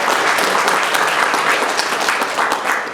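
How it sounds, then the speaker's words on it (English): Loud, close applause from an audience at a business meeting, many hands clapping in a dense steady stream with individual claps popping through, no pause. "Y'all give him a round of applause."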